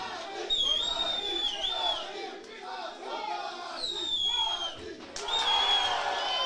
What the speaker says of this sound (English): The crowd chants Shady's name right now.